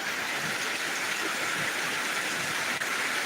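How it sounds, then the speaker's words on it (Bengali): Heavy monsoon-style rain pouring down in Dinajpur Sadar, a constant close hiss and patter of water hitting surfaces, loud and even, with no one talking. "দিনাজপুর সদরের মধ্যে এই মুহূর্তে মুসলধারে বৃষ্টি হচ্ছে"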